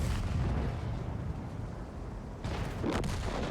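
Artillery fire in a tank game with the M60 tank: a heavy booming blast, then another sharp explosive burst near the end, loud and close over a constant rumbling engine bed.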